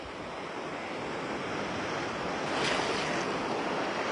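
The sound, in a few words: ocean waves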